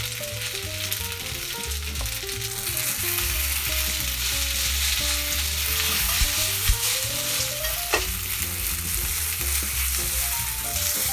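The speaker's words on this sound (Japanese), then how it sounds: "フライパンに入れたら" Spaghetti napolitan sizzles and crackles in a frying pan, a continuous close hiss of frying with occasional stirring clatter, steady throughout and with no voices.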